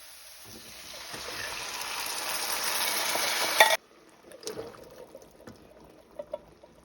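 Two cans of red beans with their liquid pour into a pot of celery and green and red peppers, a rising wet rushing gush that cuts off sharply, then a few soft knocks and stirring sounds.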